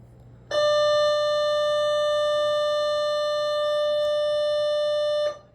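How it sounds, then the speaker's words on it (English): A school bell rings with a steady, loud electronic tone that holds unbroken for about five seconds and then stops abruptly, close by with no talk over it. "I swear those bells get longer and longer."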